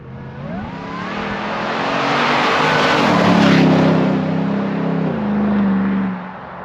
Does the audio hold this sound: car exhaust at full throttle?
yes